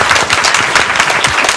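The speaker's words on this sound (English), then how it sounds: "let's give a round of applause for us." Audience applause at a speaker-series talk on data and privacy, a dense wash of clapping filling the room for a short burst with no talk over it.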